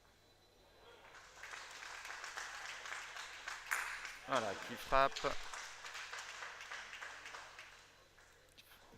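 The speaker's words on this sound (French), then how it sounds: "Et puis dans le même temps, les applaudissements." Applause swells through the hall at a sport-boules match, with sharp metallic clacks of boules striking in the middle and a commentator talking over it.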